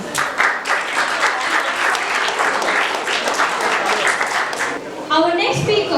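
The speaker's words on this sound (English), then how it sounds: "A big round of applause, please." A seminar audience at TISL College gives loud, sustained applause for about five seconds, then a voice begins speaking as the clapping fades.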